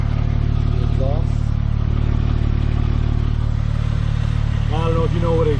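A 2003 Porsche 911 Turbo engine idling with exhaust running, a steady loud low rumble throughout, close up, with someone talking briefly over it.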